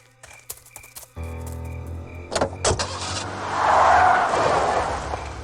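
Car sounds from the video game Full Throttle Remastered: a few clicks and a brief electric whir, then a louder engine surge with a tire-squeal-like rush building toward the end, no talk.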